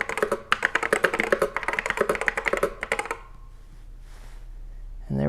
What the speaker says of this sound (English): to prove it, we'll type something.